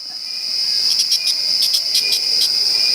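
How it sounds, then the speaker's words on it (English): Insects in the Peruvian rainforest keep up a loud, steady high-pitched buzzing drone, overlaid by a rapid series of pulsing chirps partway through, with no voices. "They're called cicadas."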